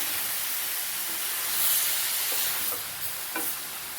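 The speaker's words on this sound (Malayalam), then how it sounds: "വീണ്ടും ഒന്നുകൂടെ ഇളക്കി കൊടുക്കാം." Chicken with salt is stirred in a pan for a coconut-milk chicken stew, giving a steady broadband sizzle and hiss with faint scraping taps from the stirring, close and continuous with no voices.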